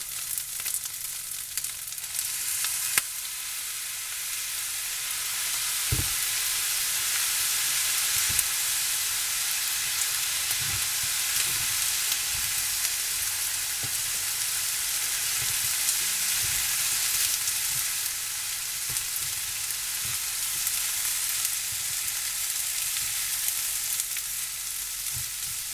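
Pork fried rice fries with soy sauce in a pan, giving a continuous sizzling hiss broken by scattered spatula scrapes and knocks over roughly half a minute.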